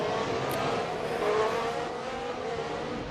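Race cars in Assetto Corsa at the Losail circuit, engines roaring steadily and revving as they run through a bend, continuous and fairly loud with no talk.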